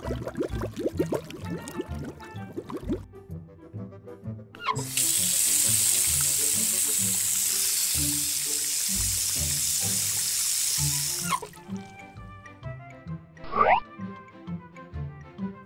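Water gushes steadily from a tap onto blueberries and redcurrants being washed for several seconds between quiet clinks and handling sounds, close by.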